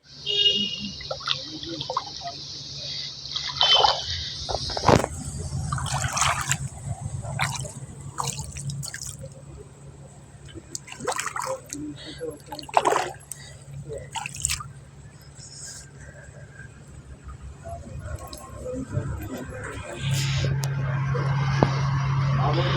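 Hands and feet being washed with pond water near a temple, a run of intermittent splashes, drips and trickles close by, with voices talking in the background.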